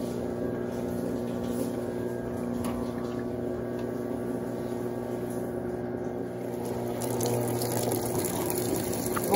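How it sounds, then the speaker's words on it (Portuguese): An Electrolux Blue Touch 12 kg washing machine (LB12Q) in its eco rinse, spraying water over bath towels while the drum turns, giving a steady, close, continuous wash of water and motor hum with no talk. "Ela vai começar então o eco enxágue, jogando um pouquinho de água em cima e girando"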